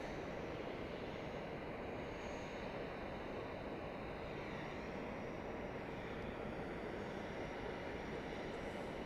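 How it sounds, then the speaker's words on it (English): A United Boeing 737-800 airliner lands at Boise Airport, arriving from Denver, as a faint, steady, distant jet roar with broad rumble that holds evenly throughout, with no voices. "that's a United Boeing 737-800 coming in from Denver, Colorado"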